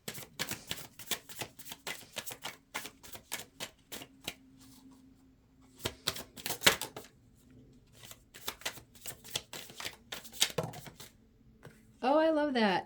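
Oracle cards with angel numbers are shuffled by hand in rapid riffling bursts and soft repeated flicks, close and fairly loud, with a short voiced sound at the very end.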